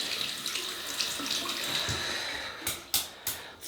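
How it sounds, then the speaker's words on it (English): Water runs steadily from a tap over a shaving brush to soak it for lathering, a continuous close splashing hiss that ends in a few sharp flicks or shakes. "So we'll wet the brush."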